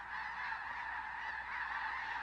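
Migrating geese honk in a dense, continuous chorus, many overlapping calls blending into a steady, fairly loud flock sound with no talk.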